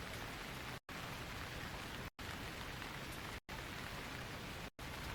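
Light rain falls with a soft, even hiss of drops on surfaces, steady and fairly quiet, broken only by a few brief dropouts.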